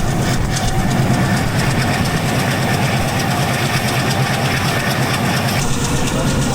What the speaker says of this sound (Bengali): আমাদের ট্রেনের গতি কিন্তু উঠে গেছে, এখন গতি 90 কিলোমিটারের কাছাকাছি